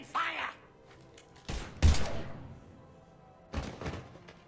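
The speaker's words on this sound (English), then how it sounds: "Now open fire!" Several bursts of gunfire from the video game Mass Effect 3 erupt in short heavy volleys, loud and close, separated by brief lulls, with a short voice heard at the very start.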